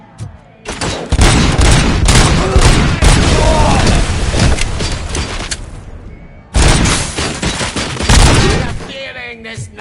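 Loud gunfire from the video game RoboCop: Rogue City, dense bursts and booming shots filling the clip, a brief lull near six seconds, then heavy firing resumes.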